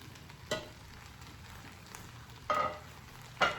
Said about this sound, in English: I'm gonna add back in the Italian sausage.